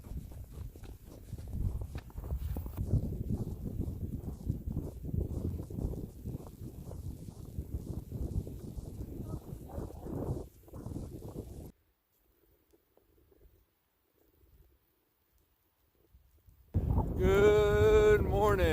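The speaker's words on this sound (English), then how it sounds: "I apologize for the wind." Wind gusts across an Appalachian Trail ridge line during a snowstorm, buffeting the microphone in rough, uneven bursts for about ten seconds before dropping to near silence; a person talks loudly at the end.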